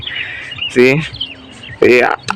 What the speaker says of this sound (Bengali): তো দেখতে পাচ্ছেন কোয়েলগুলা দা ভালো দেখাইতেছে